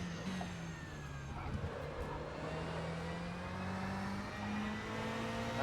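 A Ferrari in a racing video game revs and drones continuously through its gears, the engine pitch climbing steadily and holding loud and close throughout with no talking.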